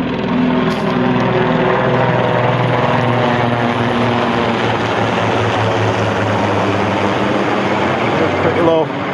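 A pair of Merlin-engined propeller aircraft pass low over Oxfordshire farmland, a loud, steady droning roar that fills the whole stretch, with wind buffeting the microphone.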